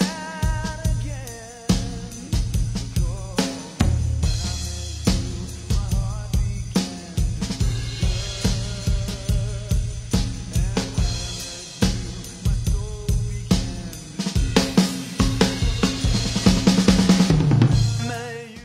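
A mixed pop song plays loud and steady from start to finish, with a regular beat of punchy drum hits under a sung vocal line and a full band arrangement.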